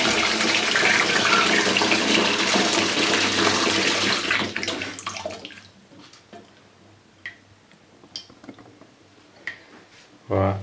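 Water pours and splashes loudly for about four seconds as food is plunged into cold water, then quieter drips and small knocks of handling follow.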